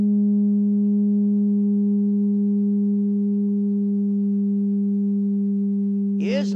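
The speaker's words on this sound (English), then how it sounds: "I'm going to fill this pipe with music" Metal pipe fitted with a wire screen sounds a steady, pure musical tone with faint overtones, sustained and even for several seconds before a brief chirping sweep at the end.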